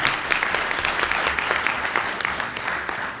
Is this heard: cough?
no